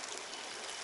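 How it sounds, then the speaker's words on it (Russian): Water from thermal springs streams steadily, a dense continuous rush and trickle that stays close and even throughout with no pauses. "Ну, вода, точнее, из термальных источников."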